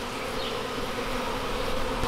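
Honey bees fanning at the entrance of a colony in a hollow tree give a dense, continuous buzzing drone, close and steady throughout with no talk.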